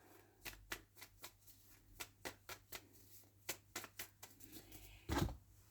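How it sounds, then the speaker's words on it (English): Tarot cards are shuffled in quick, crisp riffling bursts, a steady run of soft slaps and flutters, close and fairly quiet, ending with a louder knock. "So let's shuffle."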